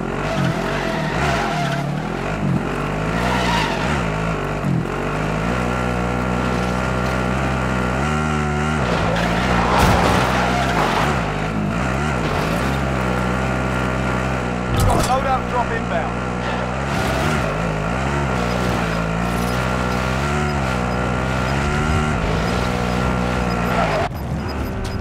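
A vehicle driven in the battle royale shooter Call of Duty: Warzone, a steady, loud engine drone with a rising and falling pitch and occasional tire skids, running continuously under other game sounds.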